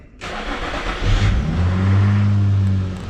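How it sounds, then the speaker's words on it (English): An Infiniti G35 with a cylinder 5 misfire cranks and fires up, settling into a loud, steady idle with a low engine drone close by. "If I turn on a car"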